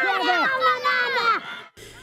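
Fans cheer at a 2021 Nelson Lawyers Cup rugby league grand final in Papua New Guinea. Loud, close shouting voices rise and fall for over a second, then drop off sharply into a quieter crowd murmur.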